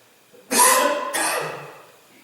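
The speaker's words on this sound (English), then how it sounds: "He had a coughing fit for hours. It was deep, constant, and breathless." Two harsh, deep coughs in quick succession, close and loud, the second trailing off into a rough, breathy rasp.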